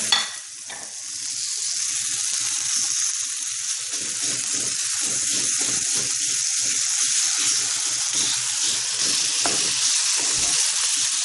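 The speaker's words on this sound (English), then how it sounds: "we have a cast iron pan over medium heat, and we're going to take this bacon right in here" Bacon frying in a cast iron pan over medium heat, giving a loud, steady, close sizzle with faint crackles throughout and a sharp thump at the start, no talking.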